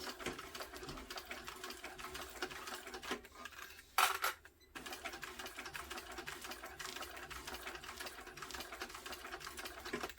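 A sewing machine stitches a straight line at stitch length 5, running steadily and close with a brief pause partway through, and no one speaks.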